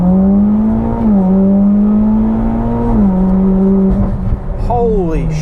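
Mitsubishi Evo X engine on a dyno in second gear, a loud close tonal drone that climbs and levels in pitch in steps, then dips and swings near the end as the pull backs off.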